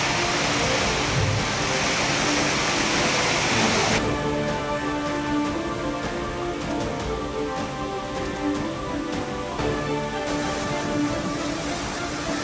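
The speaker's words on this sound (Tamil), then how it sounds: "தென்காசியில் பெய்த மழையால் குற்றால அருவிகளில் வெள்ளப்பெருக்கு." Flooded Courtallam waterfalls after heavy rain pour down in a dense, continuous roaring rush of water, loud and unbroken, with the texture shifting slightly partway through.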